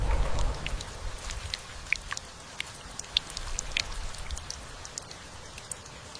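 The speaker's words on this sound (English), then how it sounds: "Rain hammered leaves until rivers overflowed." Heavy rain hammers down on forest leaves during a thunderstorm, a steady hiss with scattered sharp drops pattering close by, louder at the start and then settling into an even downpour.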